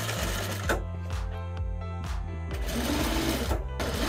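A sewing machine runs in steady bursts while stitching a tote bag side panel together, its motor hum and needle chatter close and loud, pausing briefly between runs.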